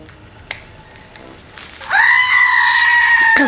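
A toy goat gives a loud electronic bleat that starts partway through and holds steadily to the end, after a few faint clicks and handling noises.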